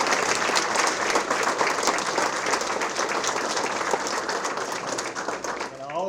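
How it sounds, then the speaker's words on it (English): A room of people at a school board meeting applauds schoolchildren, steady dense clapping from many hands that holds for several seconds, then thins and tapers off near the end. "So another round of applause for these kids,"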